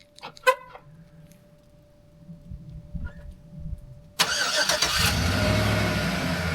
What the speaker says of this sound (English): We'll try the remote starter.